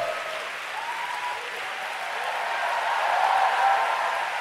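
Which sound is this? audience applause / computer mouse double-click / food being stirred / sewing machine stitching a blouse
audience applause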